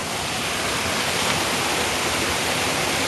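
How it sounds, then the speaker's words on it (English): Floodwater rushes steadily into a storm drain on a residential street in Montgomery, Ohio, a dense, loud, unbroken roar of flowing water that stays constant throughout. "So this is what the water looks like as it flows in."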